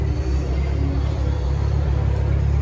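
A Fiat Uno Turbo car engine rumbles at a car collection meet with a steady, loud, low idle that stays constant throughout the short stretch.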